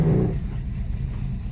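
A 1984 Buick Regal pulling away on a first drive, heard as a low engine rumble and road noise from inside the car, brief and fairly quiet with no talk.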